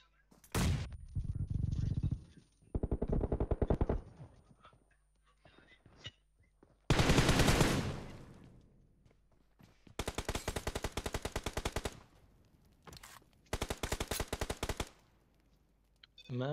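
PUBG Mobile gunfire comes in several loud automatic bursts of a few seconds each, separated by quiet gaps, with faint voices in between.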